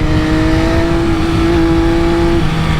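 A 2020 MV Agusta F3 800 RC sport motorcycle engine holds a loud, steady, close-up drone for a few seconds with a constant pitch, then drops slightly near the end.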